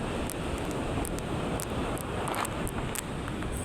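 Large ocean waves crash and roll under strong wind, a loud continuous roar of surf with gusting wind buffeting the microphone and a few brief higher hissing bursts.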